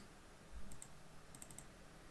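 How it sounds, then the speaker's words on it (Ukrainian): A computer mouse clicked in pairs while working in Archicad 26, giving crisp, faint, close clicks: one quick double click followed by a run of four clicks over a quiet room. "Два рази клікайте."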